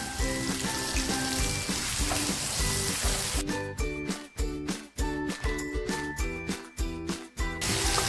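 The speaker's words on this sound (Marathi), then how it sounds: "टॅमॅटो जो कापून घेतला होता तो टॅमॅटो टाकते" Chopped tomato goes into browned onion masala frying in a pan, with a steady hiss of oil sizzle joined midway by a run of rhythmic scraping and stirring bursts.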